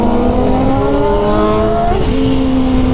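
Yamaha XJ6 turbo motorcycle at full throttle, engine pitch climbing loudly and steadily through the revs, then a brief dip at a gear change before it pulls up again, close and dominant.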